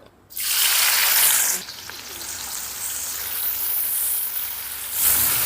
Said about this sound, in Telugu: ఈ ఉల్లిపాయల్ని మంచి బంగారు వర్ణం వచ్చేంత వరకు వేపుకుందాం